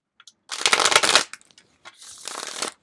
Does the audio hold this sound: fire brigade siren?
no